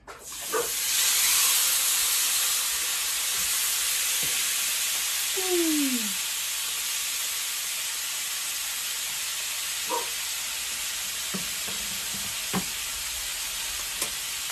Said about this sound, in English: You want to be able to sear this steak really well.